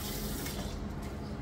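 Hot water runs steadily from a tap into a bathroom sink, a continuous close rushing hiss with no voices over it.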